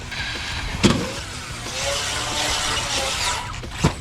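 A radio-controlled car bashing outdoors in the early morning, with a steady whining motor and tyre noise throughout and two sharp impact spikes, close and fairly loud, with no talk.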